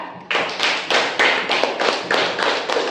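A class of pupils claps together for a group of classmates in a classroom, a steady run of quick, loud, close hand claps with no talking over them.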